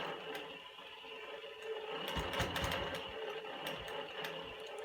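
A longarm sewing machine stitches a diagonal seam on quilt binding with a faint, quiet, rapid mechanical ticking and whir that swells slightly midway, heard alone at low level.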